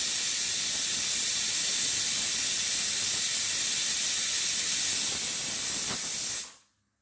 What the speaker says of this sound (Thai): กระดูกหมูก็กำลังใช้หม้อแรงดันทำให้มันเปื่อยอยู่นะ